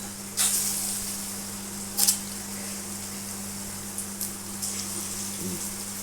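Bhetki fish pakoda pieces frying in hot oil make a soft, steady sizzle, broken by a few sharp bursts of crackling spatter as pieces hit or shift in the pan.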